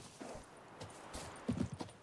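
Hooves of Roach, a horse in The Witcher 3: Wild Hunt, clopping in a short burst of steps that ends in a cluster of close, louder beats, with faint background sound.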